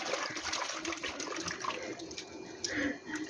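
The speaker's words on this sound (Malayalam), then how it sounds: "അതിനിയും വെള്ളത്തിലിട്ട് ഒന്ന് അതിൻ്റെ കറ കഴുകി കളയണം." Vegetable pieces being rinsed and swirled in a bowl of water while preparing a coconut-free, peanut-free chutney, a steady close splashing and sloshing that runs throughout with little pause.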